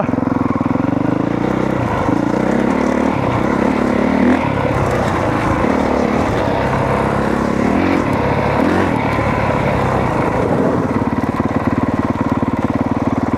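A 2022 Honda CRF 450R motorcycle engine roars loudly and continuously on a ride, the revs rising and falling with a steady rough drone and no clear pauses.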